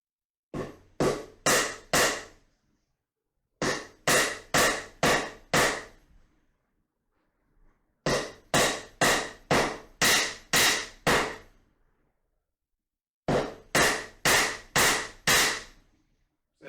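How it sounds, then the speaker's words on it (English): A wooden mallet strikes a damaged piece of wood in four bursts of four or five sharp, loud knocks each, separated by short pauses, close and with no talking. "I'll have to get my mallet"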